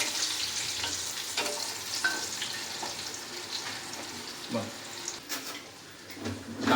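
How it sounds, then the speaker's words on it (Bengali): Eggplant pieces frying in oil alongside hilsa fish in a home kitchen, a steady crackling sizzle with scattered utensil clinks and stirring scrapes, moderately close, with faint background voices underneath. "বেগুনগুলো দিয়ে দিলাম, বেগুনগুলোকেও হালকা ভেজে নেব।"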